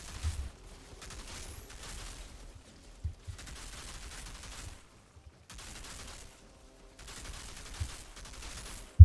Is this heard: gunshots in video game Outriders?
yes